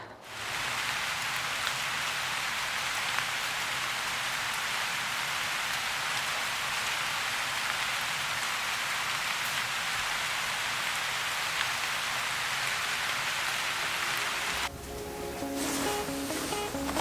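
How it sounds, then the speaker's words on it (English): A heavy rain downpour on a farm roars as a steady, dense hiss of drops hammering surfaces close by for about fifteen seconds, then shifts abruptly to a different, slightly quieter patter near the end. "We had an absolute downpour and now it's nice."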